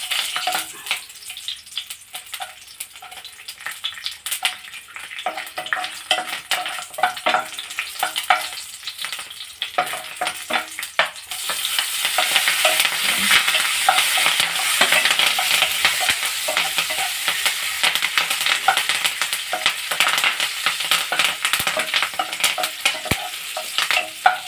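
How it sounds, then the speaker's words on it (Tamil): Garlic, curry leaves, tamarind, dried red chilies and onion fry in hot oil for an urad dal chutney, giving a steady close sizzle with frequent stirring scrapes that grows louder and denser partway through, with no talking. "கொஞ்சம் ஒரு 5 பல் அளவுக்கு பூண்டு, கொஞ்சம் கருவேப்பிலை, கொஞ்சம் புளி, காஞ்ச மிளகா, வெங்காயம் இதை இதில் போட்டு நம்ம இதே எண்ணெயில் அதை வறுத்து எடுத்துக்கலாம்"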